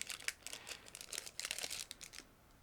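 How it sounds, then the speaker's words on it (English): A sealed clear plastic bag holding the transparent sprue of a Miniart 1/35 British B-Type Armoured model kit is torn open, giving bursts of close, sharp crinkling and rustling with no one talking. "it is packed into a sealed plastic bag, so I'm opening it right now"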